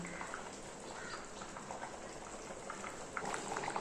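Water bubbles at a steady boil in a pot of vegetable biryani, a soft continuous gurgling and popping with no voices.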